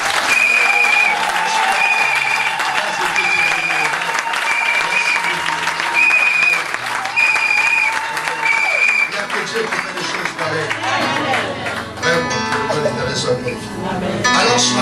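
A church congregation at a French-language worship service applauds to acclaim the Lord, loud sustained clapping with voices and a sung tone rising through it, the crowd sound thinning and shifting toward the end.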